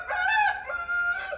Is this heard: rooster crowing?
yes